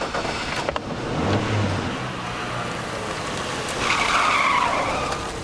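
A car pulls away with tires skidding on the road, a broad rushing screech that swells near the end, heard at moderate distance over steady noise from a street scene.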